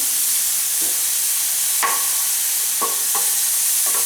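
Beetroot sautés in ghee under a constant loud hiss of frying, with a few sharp scrapes and taps of a spoon stirring against the pan, heard up close.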